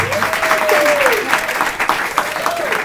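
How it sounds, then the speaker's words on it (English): Audience applause for two children, Yitzi and Shaya, at a 40th birthday speech: a steady wash of many hands clapping, fairly close and continuous throughout, with a faint sustained tone running beneath it. "I want you to stand up and everyone's going to clap for Yitzi and Shaya."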